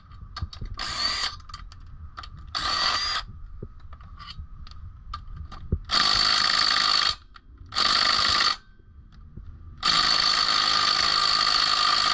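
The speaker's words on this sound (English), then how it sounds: "We're gonna remove these 3 bolts right here, and then that pump is gonna come off" An impact gun removing three bolts from the power steering pump on a 2003 Chevrolet Tahoe, firing in several loud, close rattling bursts of about a second or two each, separated by quieter pauses.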